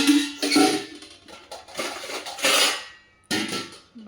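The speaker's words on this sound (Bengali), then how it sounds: "বাসন কুসন ধুয়ে গেছে এগুলো গোছাবো" Freshly washed metal pots, pans and dishes are stacked and put away in a home kitchen, with repeated clanks and clatters in short bursts separated by brief pauses.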